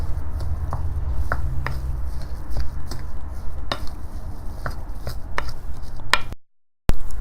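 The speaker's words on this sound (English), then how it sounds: "As you see, I am mixing it really well using my hand." Potato cutlet ingredients mixed by hand in a bowl, with soft squishing and light knocks repeating steadily over a low background hum, close and moderately loud.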